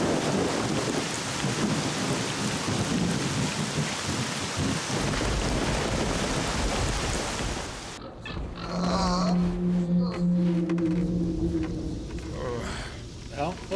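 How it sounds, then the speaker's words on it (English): Heavy rain pours steadily in the S.T.A.L.K.E.R. Clear Sky video game, a dense continuous roar, then a deep thunder rumble rolls in midway as the rain continues, with game sounds layered over it. "Well, wasn't it flogging down rain?"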